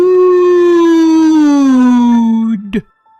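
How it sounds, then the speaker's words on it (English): A single long, wailing howl from a creature inside a van, loud and close, sliding slowly downward in pitch before breaking off into a short, strangled yelp at the end. "It howled from inside the van."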